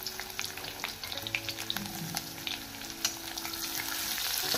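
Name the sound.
onion frying and being stirred in pan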